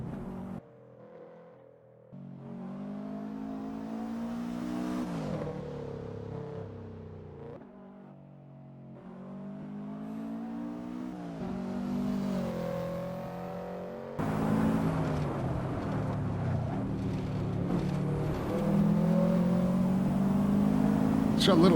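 Race car engine at speed, rising and falling in pitch through gear shifts, with a sudden echoing change as the car passes through a tunnel under a bridge, heard from onboard with a fairly loud, continuous roar.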